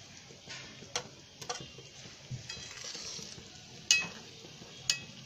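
Egg curry simmering in a pan on a gas stove, a steady low bubbling hiss with occasional sharp clinks of a spoon against the pan.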